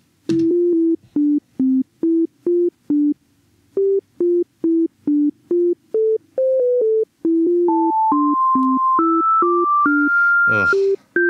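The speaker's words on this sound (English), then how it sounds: "the synths sound like a dial-up modem" Synth track with bass, pluck and flute voices built from raw oscillators, giving a harsh beeping tone like a dial-up modem: short repeated stabbing notes, then longer rising sustained tones, loud and with no voice.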